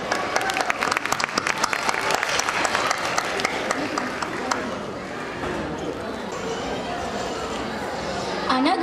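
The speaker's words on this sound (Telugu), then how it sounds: "వాళ్ళందరినీ ఆ చప్పట్లతో స్వాగతం చెప్తాం" Audience applause welcoming children onto the stage at a Telugu cultural event in Dallas, Texas, with dense clapping that is loud and steady at first, then eases a little and continues.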